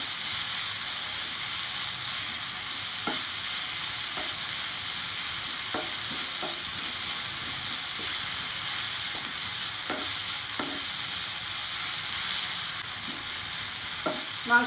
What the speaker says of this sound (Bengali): মাংসটা আমি আরও একটু ফ্রাই করে নেবো